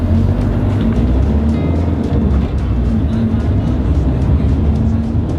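A V12 car engine pulls steadily at close range, a dense, continuous roar with a low droning hum held for the whole stretch, no talking over it.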